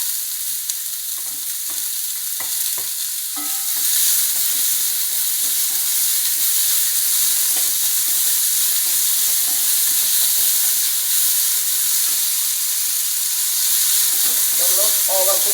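Cabbage drops into a hot pan for mixed vegetable soup, a few clattering knocks giving way to a loud, steady hiss of frying that continues with occasional stirring scrapes.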